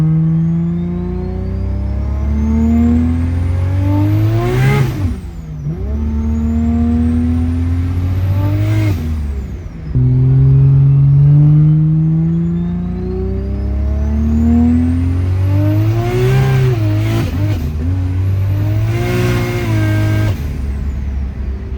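A turbocharged Holden VL car accelerates hard on boost, its engine note climbing repeatedly through the gears with sharp dips at each shift, loud and close throughout with no talking.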